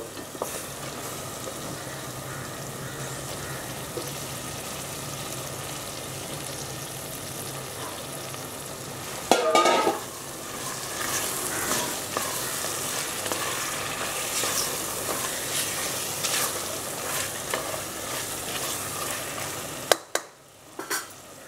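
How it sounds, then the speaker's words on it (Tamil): Chicken frying in separated oil in a pan for Tamil chicken kulambu, a continuous close sizzle with occasional stirring scrapes and a brief clatter near the middle, no talking. "எண்ணெய் நல்லா பிரிஞ்சு வந்த பிறகு சிக்கனை அதில் போடுறோம்."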